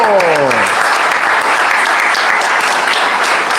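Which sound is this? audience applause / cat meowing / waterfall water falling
audience applause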